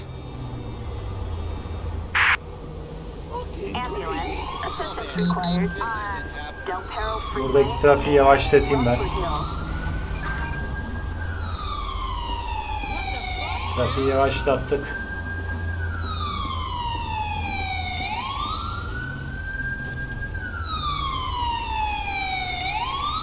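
Ambulance siren in the GTA 5 game, a wailing tone that rises and falls in repeated sweeps, loud and steady, with someone talking over the early part.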